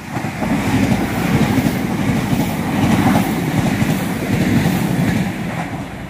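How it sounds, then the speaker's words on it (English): A passenger train bound for Great Victoria Street passes Whiteabbey station, a steady loud rumble of wheels with faint clickety-clack over rail joints, sustained and close throughout. "Here comes the train for Great Victoria Street."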